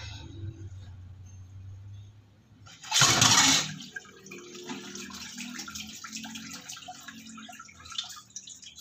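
Water pours into a large square silicone ice cube tray in one short, splashing rush that stops after under a second, with quiet room hum before and after.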